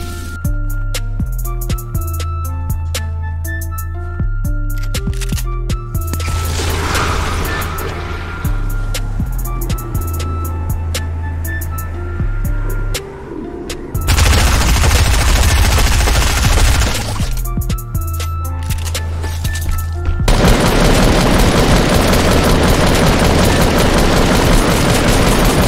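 Crossbow shots and other gunfire in the video game Fortnite, repeated sharp reports over a rhythmic game soundtrack, with dense loud bursts of firing and noise in the latter half.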